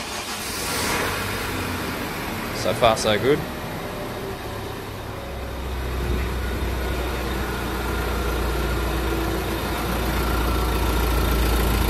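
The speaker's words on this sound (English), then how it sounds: "I'm going to flick the car on, making sure obviously the handbrake's on and it's in park." A Nissan Navara NP300 D23 diesel engine cranks and catches after a fuel filter change, then settles into a steady low idle that grows slightly louder; someone speaks briefly before it starts.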